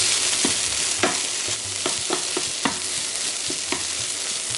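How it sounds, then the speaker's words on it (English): Ketchup-coated chicken and rice are stirred in a frying pan over a steady sizzle, with regular scraping strokes of a utensil against the pan. "Okay, give this a mix. Mix it up."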